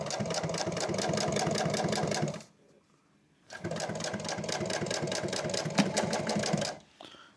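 A sewing machine stitches around a fabric corner in two loud bursts of rapid, even mechanical whirring, pausing about a second in between while the fabric is turned.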